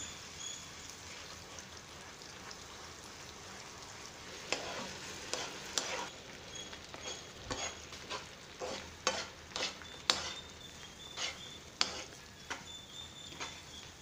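Semolina being stirred into boiling salted water with a little oil in a pot, a soft bubbling hiss under scattered scraping and tapping strokes of a spoon, growing busier toward the end; no voices.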